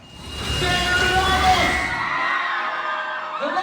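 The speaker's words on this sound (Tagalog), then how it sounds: "Napuno ng hiyawan ang cinema lobby ng isang mall sa Mandaluyong" Fans at a film premiere night in a mall cinema lobby in Mandaluyong scream, whoop and cheer, a loud crowd roar that swells quickly, holds, then thins toward the end.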